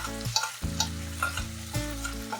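Spice paste for potol dolma is stir-fried in a pan, each stroke of the spatula bringing a burst of sizzling in a slow, repeating rhythm over a faint steady hum.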